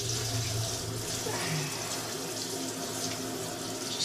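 Steady running water from a bath tap rinses a dog's chest in a bathtub, a continuous close splashing hiss with no pauses.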